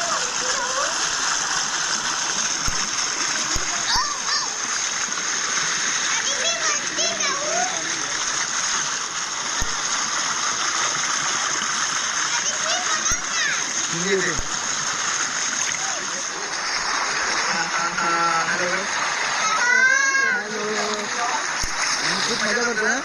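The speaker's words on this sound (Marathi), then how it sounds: "चला तर मी आता उतरतो पाण्यामध्ये आणि तुम्हाला दाखवतो कसं वाटतं एकदम." A person wading into a river to bathe on a hot day, with steady flowing water and splashing, while children and adults talk and shout close by.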